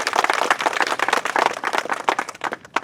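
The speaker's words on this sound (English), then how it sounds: "Let's give a round of applause." An audience applauds at a ceremony, the clapping dense and steady with sharp individual claps standing out, fairly loud and close, continuing for the whole stretch without speech.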